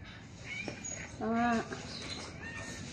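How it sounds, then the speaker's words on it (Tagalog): A mother cat begging for food gives one clear, drawn-out meow at close range, with softer faint sounds and quiet background noise around it. "Yan si Mama Cat, oh. Kanina pa hingi ng hingi yan"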